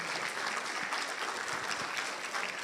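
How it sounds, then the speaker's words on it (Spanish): A church congregation claps steadily and fairly faintly, an even wash of many hands heard from a distance with no voices on top. "Denle un fuerte aplauso"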